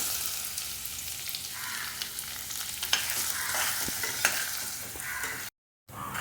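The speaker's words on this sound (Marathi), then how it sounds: "हा मीडियम साईजचा एक कांदा कापून घेतलेला आहे तो आपण परतून घेणार आहोत" Chopped medium onion sautéing in hot oil, a steady crackling sizzle with scraping stirs and a couple of sharp knocks, ending in a brief silence and then resuming.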